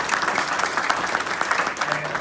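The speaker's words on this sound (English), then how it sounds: "You guys give her a little clap." An audience claps for a man's wife, Allison, at a Navy Supply Corps ball, a steady wash of applause filling the whole short stretch with a bit of crowd murmur beneath.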